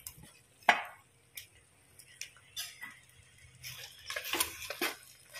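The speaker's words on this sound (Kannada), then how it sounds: "ಈಗ ತೊಳೆದಿಟ್ಟಂಥ ಚಿಕನನ್ನು ಇದಕ್ಕೆ ಸೇರಿಸುವ." Washed chicken tipped into frying masala in a pan for chicken curry, with a sharp clank at the start, then scattered scraping, taps and soft sizzling patter building up close by.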